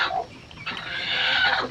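Chickens cluck and squawk inside a poultry house on a farm, a loud close burst of overlapping bird calls that grows busier toward the end.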